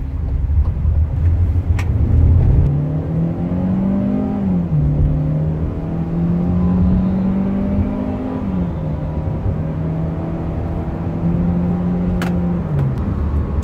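A 2018 Hyundai Creta Prestige 2.0 with automatic transmission accelerates from inside the cabin, its engine droning and climbing in pitch, dropping at each gear shift, then rising again over steady road noise, loud and continuous.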